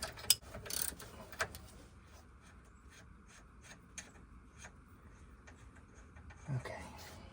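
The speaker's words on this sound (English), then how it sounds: "I have to deal with this like this. Ratchet and wrench." A ratchet and wrench work loose a sway bar link on a third-generation Dodge Ram 2500, giving close, rapid, evenly spaced clicking bursts over a quiet garage background, with occasional louder knocks.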